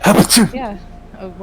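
A short sneeze bursts out at close range, followed by a few casual spoken words from nearby people.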